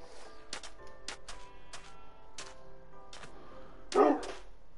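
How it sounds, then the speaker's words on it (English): A dog barks in a run of about seven sharp, close yips spaced roughly half a second apart, ending with a louder, fuller bark. "Don't bark at me."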